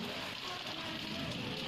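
Heavy monsoon rain pours steadily in India, a dense continuous hiss of drops striking surfaces, loud and even throughout.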